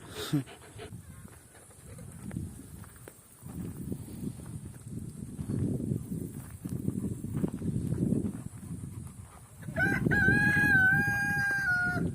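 After a stretch of low rustling and shuffling, a rooster starts crowing near the end, loud and close.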